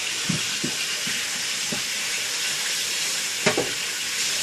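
Chicken fries in a pan with a steady, close, hissing sizzle, broken by a few soft clicks and taps.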